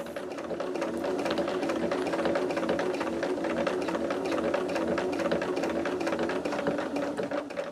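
A sewing machine stitches along a fabric edge with a quarter-inch foot while making an acorn garland and coaster, a steady rapid mechanical whir and clatter running continuously at close range.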